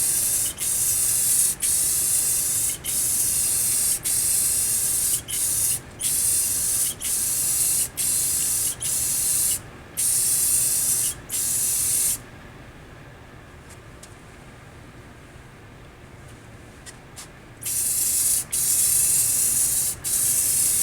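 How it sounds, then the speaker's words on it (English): Dry-spray painting on an arcade cabinet being restored, with repeated loud hissing spray-can bursts in short rhythmic passes, a quiet pause of several seconds, then more spraying. "It's called dry spray"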